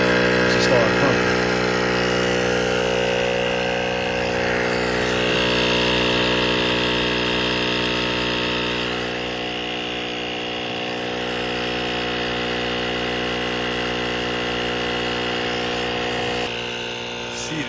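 An AUTOONE portable jump starter with a built-in air compressor pumps up a car tire, a loud steady motorized drone with a strong buzzing hum that runs continuously for the whole stretch, then cuts off near the end.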